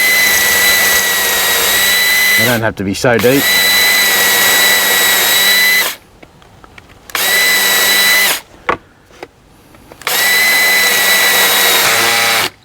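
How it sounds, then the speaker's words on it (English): A 5mm twist drill bores back into dowel holes in an IKEA PAX wardrobe panel, the power drill whining loudly in several long bursts separated by pauses, with handling clatter and a short spoken remark in between. "This is a 5mm twist drill. And we're just gonna go straight in there and re-drill it."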